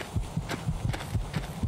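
A low-health heartbeat effect from the Skyrim video game pulses steadily in soft, thudding double beats, repeating evenly and alone at moderate volume.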